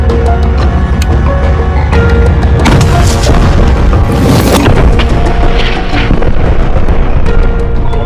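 An anti-tank rocket strikes an Israeli armored personnel carrier near a cemetery in Rafah during wartime, a loud blast erupting midway through a constant heavy roar of rumbling noise, with no talking.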